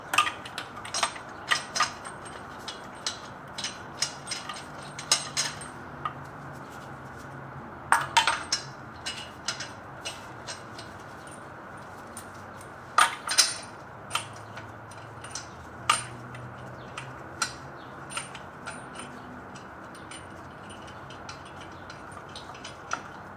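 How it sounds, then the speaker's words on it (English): Lug nuts are threaded by hand onto a Lexus LX570 wheel studs, giving a series of faint, irregular metallic clinks and ratcheting ticks scattered across a quiet background with no talking. "I'm going to thread the lug nuts on by hand first."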